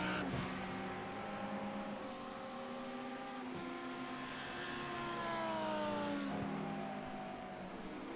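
A BMW race car spins out during a sim racing game at Donington, its engine note droning and sliding in pitch over a steady layered roar of several cars, continuous and fairly loud with no talk.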